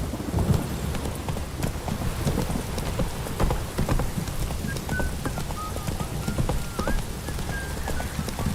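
Roach, a horse in The Witcher 3: Wild Hunt, gallops with a steady rapid clip-clop of hooves, close and rhythmic, over a wet bed of rain, with a brief whinny-like tone near the end.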